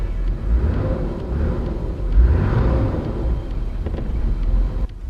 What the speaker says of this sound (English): So that's the idle. We're sitting at about 900 RPM, which isn't too bad.